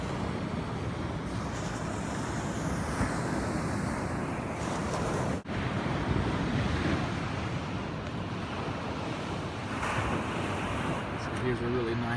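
Surf washing onto a rock-strewn sandy beach near the end of Damon Point at Ocean Shores, Washington, a steady broadband roar of waves with wind buffeting the microphone throughout.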